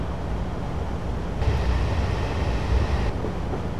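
A Class 156 diesel multiple unit running at full power in Train Simulator 2015 on the Glasgow Central Circular route. A steady, dense engine and rolling drone holds throughout, growing slightly fuller and louder midway before easing back.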